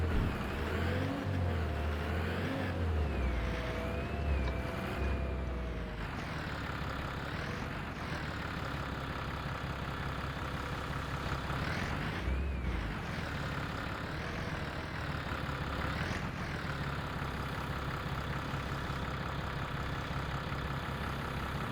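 Tractor engine in the video game Farming Simulator 25, a steady mid-pitched drone that idles and rises and falls in pitch as it revs, running continuously at close range.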